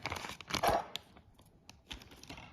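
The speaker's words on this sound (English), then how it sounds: "Now let's get the two screws out of the plastic bag." A small plastic bag holding two screws for a WD USB to SATA adapter is torn open and crinkled close up, with sharp rustling and ripping bursts followed by softer scattered crinkles.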